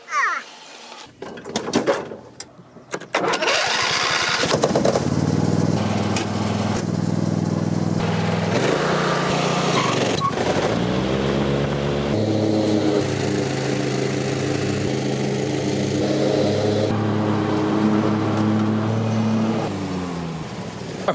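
A lawn mower cuts a yard. A few rough sputters and clunks come first, then the engine catches into a loud, steady drone that holds to the end, with some brief talking near the start.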